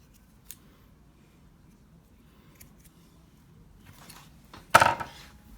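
Scissors cut through the inner strands of paracord with one crisp, close snip near the end, after quiet handling noises.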